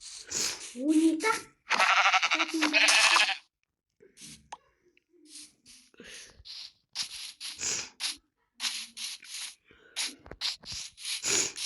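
Sheep in the video game Minecraft bleat in short, clear bursts near the start, followed by quieter scattered game sounds and sparse talk from a player.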